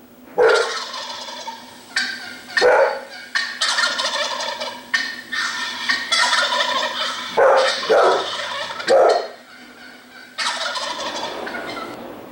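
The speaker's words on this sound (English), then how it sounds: "This is the boy turkey, the gobbler, and this is his gobble sound" A turkey gobbles loudly several times in quick rattling bursts, with fainter hen calls between them.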